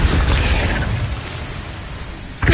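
An Incendio fire spell bursting in a Harry Potter–style combat video game, a loud, dense roaring blast of fiery noise that holds for about two seconds before a fresh burst hits at the end.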